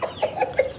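A chicken and rooster in a cage cluck while eating flour, a few quick close clucks packed into under a second.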